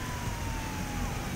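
An ambulance siren in the GTA IV video game wails steadily in a continuous, fairly faint tone over low rumbling traffic noise.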